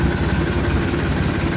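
A tractor engine runs in second gear while slowly crossing water-filled pits, giving a loud, steady low rumble with continuous vibration and no talk.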